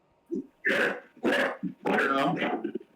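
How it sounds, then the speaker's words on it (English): Several dogs barking in short, loud bursts close by, with yips and whimpers between barks. "even your dogs are hating it by barking in the background"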